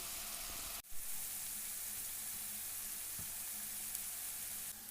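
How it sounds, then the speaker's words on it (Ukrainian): Steady, close sizzling of chopped onion frying in oil in a pan, continuous throughout with a brief clatter near the start. "на сковорідці в олії обсмажуємо порізану цибулю до такого ледь золотавого кольору"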